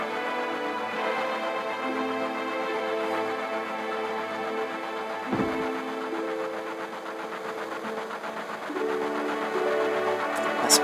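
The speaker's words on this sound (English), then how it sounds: "Last train out of Sector 8 station, last stop is Sector 7, the train graveyard." Train ride on the last train out of Sector 8 toward the Sector 7 train graveyard in Final Fantasy 7, a steady mechanical engine rumble with layered tonal hum running continuously, with one brief thump midway and no talk.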